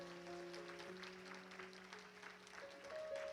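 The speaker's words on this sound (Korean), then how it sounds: "박수로 맞아주시면 감사하겠습니다." During a Sunday church service award presentation, the congregation offers soft, distant applause while sustained keyboard or organ tones hold underneath, the whole scene quiet and muted.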